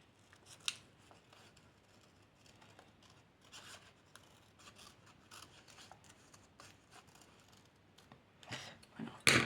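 Scissors snipping through paper for a small handmade artist trading card, quiet close crisp cuts in an irregular run, ending with a louder rustle.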